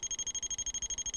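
An ANCEL PB100 automotive circuit probe tester gives a rapid pulsing electronic beep, fast regular on-off tones repeating close and clear for just over a second.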